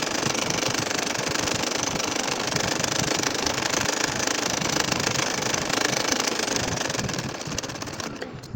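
A sewing machine stitches a nakshi kantha quilt in a continuous, fast, even mechanical rattle that stays steady and prominent before easing slightly at the very end.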